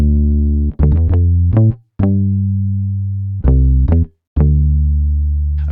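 A compressed, processed synth bass plays a repeating pattern of short plucked notes and longer sustained low tones, loud and dense, with a fading tail after each held note and short gaps between phrases.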